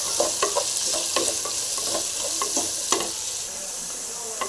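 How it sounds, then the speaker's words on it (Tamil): Chopped onions fry in oil in a pan with salt and curry leaves, giving a steady loud sizzle broken by sharp clicks of stirring. "வெங்காயம் நல்லா ஃப்ரை ஆகிடுங்க"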